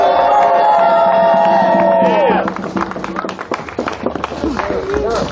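A protest crowd cheers, claps and shouts together after being urged to make some noise, a loud sustained roar with scattered claps, while a voice speaks over the start.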